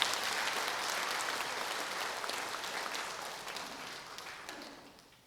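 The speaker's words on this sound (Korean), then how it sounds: "우리 초등부 아이들 잘 크라고 박수 한번 합시다." A church congregation claps together in sustained, dense applause that gradually fades over a few seconds.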